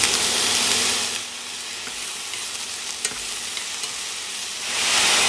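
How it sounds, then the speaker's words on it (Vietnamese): Scallion bases fry in a pan for a vegetarian dish, giving a steady, close, loud sizzle that dips briefly in the middle before swelling again, with no voices. "Em cho hết cái phần gốc hành và em phi thơm."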